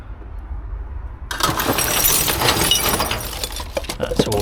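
Broken glass shards of a smashed Christmas cookie jar rattle and clink in a UK dumpster, a burst of crunching, jangling glass that continues busily after a quiet start.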